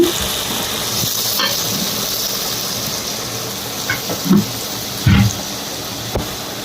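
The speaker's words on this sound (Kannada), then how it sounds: "ಇದನ್ನು ಕಡಿಮೆ ಸಿಮ್ಮಲ್ಲಿ ಸ್ವಲ್ಪ ಫ್ರೈ ಮಾಡ್ಕೊಳ್ಳೋಣ" Chilli, garam masala and coriander powders fry on a low flame for a fish gravy, giving a soft steady sizzle with a few brief clinks of stirring.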